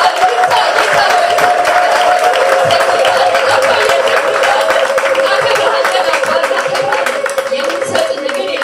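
A church congregation claps and applauds continuously in a dense, loud patter that lasts throughout, with crowd chatter and cheering mixed in.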